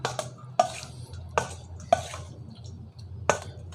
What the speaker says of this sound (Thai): ก็ให้เราตักน้ำซอสก๋วยเตี๋ยวเนี่ยครับ ใส่ลงไปครับ แล้วเราก็คลุก